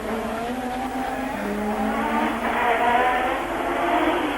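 Formula 1 cars at the 1986 Monaco Grand Prix, including a Tyrrell Renault, whine past in a sustained high-pitched engine wail with rising and falling pitch, loud and continuous.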